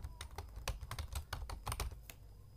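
Rapid, uneven keystrokes on a computer keyboard as a name is typed into an online form, close and clear with no voices over them.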